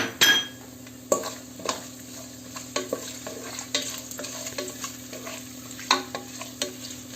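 A spoon stirs cashews and dried fruit frying in a pot for wedding-style chicken biryani, with a steady soft sizzle and irregular scraping clinks of utensil on metal.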